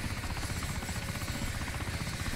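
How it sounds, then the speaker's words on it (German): A KA-60 helicopter in the video game DayZ drones steadily with a dense, continuous rotor throb, loud and close, with no talk over it. "Allererste Premiere vom KA-60 auf unserem Server"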